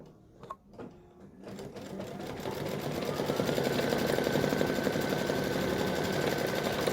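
An embroidery machine satin-stitches the stem of an applique pumpkin, starting with a few soft taps before settling into a steady, continuous fast mechanical whir that holds close and even to the end.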